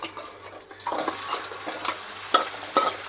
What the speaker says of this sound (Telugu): ఆయిల్ వేసుకున్నాం చెక్క లవంగాలు వేసుకున్నాను ఇప్పుడు దీంట్లో మటన్ వేసుకుందాం